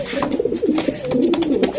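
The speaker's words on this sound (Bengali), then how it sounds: "প্রতিটা কবুতর সুন্দর" Racer pigeons coo softly and repeatedly nearby, a run of low, throaty burbling calls.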